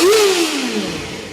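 A 2024 Kawasaki Ninja ZX-4RR inline-four with stock exhaust gives a single sharp high-pitched rev that peaks quickly and falls away, loud and close.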